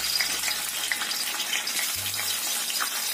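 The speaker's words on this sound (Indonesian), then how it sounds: "Di sini kita goreng tahunya" Tofu fries in hot oil in a pan at medium heat, giving a steady close crackling sizzle with a brief low hum partway through, no talk.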